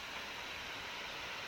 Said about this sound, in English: I got a little bit closer to the waterfall